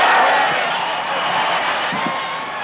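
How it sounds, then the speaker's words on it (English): Huge record-breaking crowd at the 1972 Southern 500 stock car race roaring and cheering after the finish, a steady loud broadband crowd wash with a few whoops and shouts rising out of it. "Can you hear that crowd, Bobby?"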